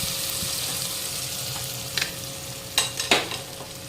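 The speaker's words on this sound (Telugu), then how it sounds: "ఇప్పుడు టమాటా, జీడిపప్పు, ఆనియన్ వేగినాయి" Tomato, cashew and onion sizzle softly in a pan for a dhaba-style chicken gravy, with a steady frying hiss and a few sharp stirring scrapes toward the end.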